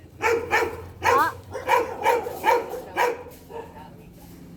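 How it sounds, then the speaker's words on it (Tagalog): Grandfather's big dog at a farmyard with chickens and ducks barks in a series of about seven loud, close woofs at a steady rhythm, fading slightly toward the end. "Ang laki ng aso ni Amang, oh."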